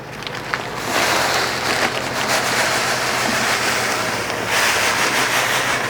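Water pouring steadily into a brewing kettle for a homebrewed extract winter ale, a continuous loud rushing splash that swells and fades slightly as the pour goes on.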